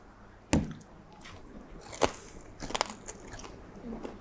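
Crispy deep-fried pork tail, cooked like crackling pork belly, being bitten and chewed up close. A sharp crunch comes first, then another bite, then a string of smaller crackling chews, with no talk.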